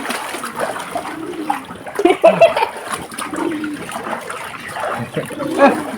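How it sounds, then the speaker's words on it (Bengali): A child swimming and splashing in water, with irregular sloshing and splattering bursts close by and a brief soft voice in the background. "সাঁতার কাটছে তা শুনো"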